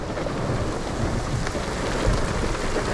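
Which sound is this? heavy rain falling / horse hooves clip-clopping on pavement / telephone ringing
heavy rain falling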